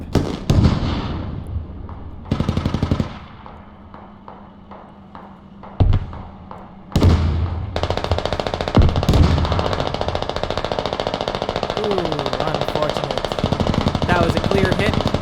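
Gunfire and explosions from a video game tank battle: bursts of rapid shots and heavy blasts, loud and close, giving way to a sustained rattle of continuous fire.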